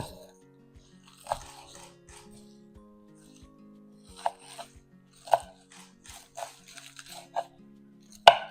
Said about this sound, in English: And I'm going to give this a rough chop